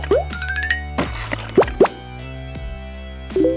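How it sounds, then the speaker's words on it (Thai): Brewed rose tea drips and plops as the liquid is squeezed from the spent tea leaves, a few distinct close drips spread out and alone over a faint steady hum. "เสร็จแล้วก็บีบน้ำชาออกมาเลยครับ"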